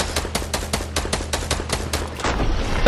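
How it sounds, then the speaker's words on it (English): Rapid bursts of automatic gunfire in a building shooter video game, about a dozen loud, evenly spaced shots in quick succession, ending in a denser, louder wash of noise with no talking. "Stop shooting at me."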